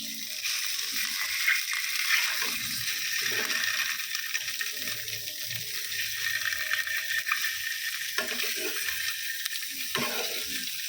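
An egg fries slowly in a pan for a home-cooked Bengali egg-and-poppy-seed dish, giving a steady, soft hiss and sizzle that runs throughout with no one talking.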